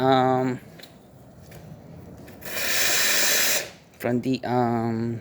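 A loud, steady steam hiss bursts out for about a second from an Alex Duetto espresso machine steam wand, with someone talking before and after it.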